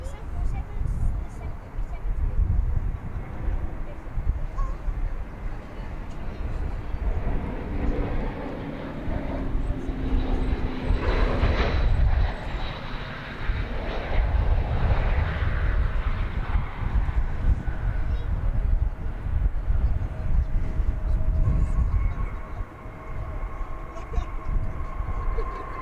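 A jet takes off at DFW Airport, a loud sustained roar rising and swelling in the middle before easing, heard from an outdoor vantage point with people talking over it.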